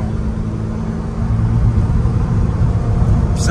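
An Alfa Romeo engine pulling in third gear around 3000 to 4000 rpm, a loud, steady low drone heard from inside the car that swells a little about a third of the way in.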